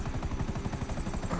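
A helicopter flying in the video game Grand Theft Auto V at a Merryweather base crash site, its rotor chopping in a fast, steady, loud rhythm throughout with no talking.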